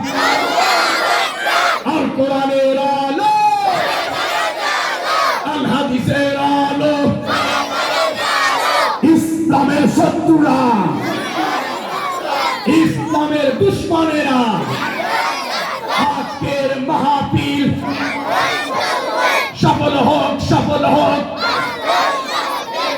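A large crowd at an outdoor Islamic religious gathering shouts the takbir chant in loud, rhythmic call-and-response bursts, voices roaring together repeatedly with a leader calling between responses.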